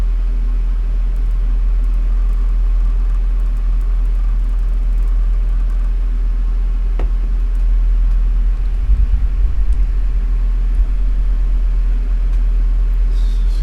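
NASCAR race cars lapping Michigan in the NASCAR Racing 2003 simulation, a steady low engine drone and rumble throughout with a brief thump near the middle, no voices.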